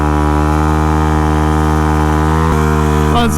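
A car engine holds a steady, loud drone that climbs slightly in pitch, with a sharp break near the end like a gear change, heard up close with no talking.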